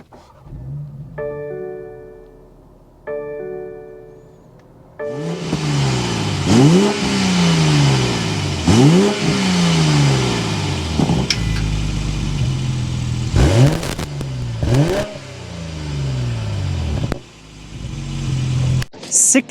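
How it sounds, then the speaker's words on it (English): A 2024 BMW 840i convertible with a twin-power turbo engine starts up close by after a few chime-like tones, then revs hard several times, each rise and fall of its exhaust note loud and distinct over a steady idle. "start it up so you can hear that exhaust note"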